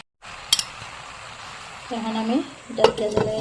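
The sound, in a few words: stirring bottle gourd greens in a cooking pan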